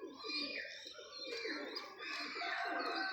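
Pigeons coo and murmur in a loft of tumbler pigeons kept for sale, soft rolling calls overlapping with other bird chirps and a voice in the background.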